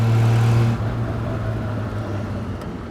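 Kit car with a 1960s Triumph Vitesse engine pulling in third gear, a loud steady engine drone that shifts pitch slightly partway through and continues with road noise.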